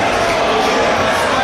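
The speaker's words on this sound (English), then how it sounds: "Listen to this crowd." A wrestling crowd at a Limitless Wrestling show in Portland, Maine, roars in a loud, continuous wall of noise with no breaks.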